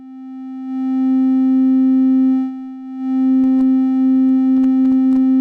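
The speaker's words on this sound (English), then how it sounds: "Triangle wave." A steady triangle-wave tone from an Arturia MicroBrute analog synthesizer, soft and hollow with a few faint overtones, hums continuously, swelling in level, while sharp clicks crackle sporadically near the end.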